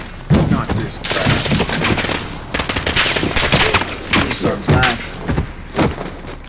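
Heavy gunfire in a Modern Warfare military video game, dense bursts of automatic fire and thumping shots going on nonstop at close range, with excited voices over the top.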